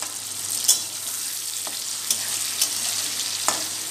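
Green chillies fry in a pan with chopped tomatoes for shahi paneer, giving a soft, even sizzle with a few scattered spatula taps and scrapes and no talking.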